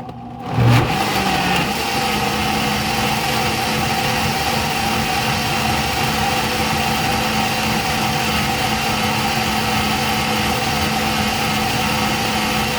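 A countertop blender whirs steadily at full speed, puréeing a pale green mixture made with olive oil; one constant loud motor drone with a brief surge at startup, no talking.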